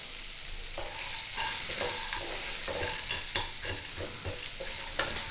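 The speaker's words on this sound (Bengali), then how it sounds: "হালকাভাবে নেড়ে নেব।" Mango ginger, onions and green chilies frying in a pan and stirred gently, a steady sizzle with rhythmic scraping strokes of the spatula, close and clear.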